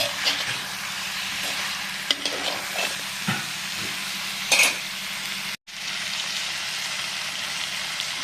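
Garden brinjals cook in a pan for a salted fish curry, giving a steady close sizzle and hiss with a few stirring scrapes and one brief cut-out, with no talking.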